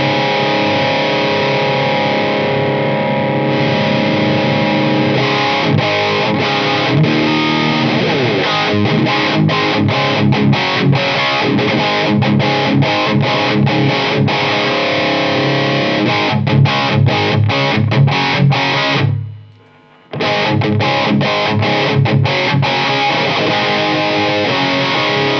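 Electric guitar played through a cheap overdrive pedal set with low drive and high level, giving a continuous, loud, crunchy distorted tone with strummed chords, broken by a brief silence near the end.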